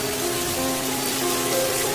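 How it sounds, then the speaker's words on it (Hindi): Heavy stormy rain falling in a cold-season downpour, a dense, steady hiss of water pouring down without a break, loud and close, with a low hum beneath it. "इतनी तेज़ बारिश"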